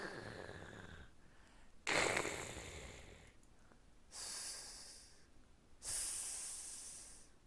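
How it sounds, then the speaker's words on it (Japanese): A character in the video game Tanima Tantei no Pururun Jikenbo snores loudly, with a few long, drawn-out snorting breaths separated by short pauses and no talk over them. "めっちゃいびきでかいやつおる。"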